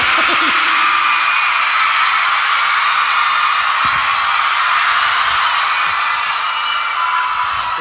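A concert audience at the U.H.T. 2 U show screams in a loud, sustained roar that fills the whole stretch without a break, a dense crowd sound with no clear single voice.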